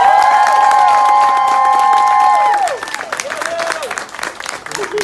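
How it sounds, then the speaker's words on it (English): A graduation audience cheers and applauds loudly, a dense wash of clapping and voices with a sustained tone over it at first, then thinning into scattered, uneven applause and shouts. "Give them another big cheer."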